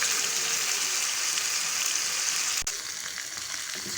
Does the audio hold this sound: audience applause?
no